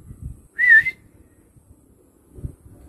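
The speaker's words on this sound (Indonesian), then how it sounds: "Jadi saya panggil pakai siulan aja sekarang" A single short, clear whistle, loud and close, calling a pet crow, with quiet handling noises before and after and no speech.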